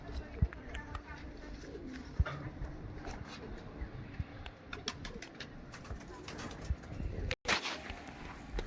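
White Kolkata pigeons cooing among other birds at a pigeon sale in Dankuni, soft low coos and scattered calls under background chatter and occasional voices, with a brief sharp break near the end.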